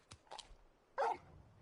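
Torgal, a large dog in Final Fantasy 16, gives two short yips and then one louder, fuller bark, each a quick close burst with brief gaps between.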